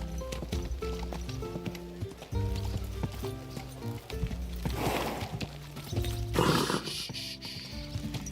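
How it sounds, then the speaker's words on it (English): Horse hooves clip-clop in the video game Kingdom Come: Deliverance 2, a run of irregular thuds with musical tones in between and two louder rustling bursts partway through. "Easy, good horse."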